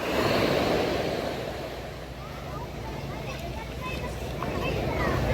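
Ocean surf washing steadily along a rocky seaside shore, a broad continuous roar with gusting wind buffeting the microphone, while people talk and call out over it.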